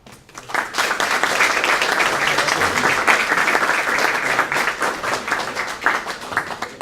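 Sustained applause from a classroom or presentation audience after a student history presentation, steady dense clapping throughout with no speech over it.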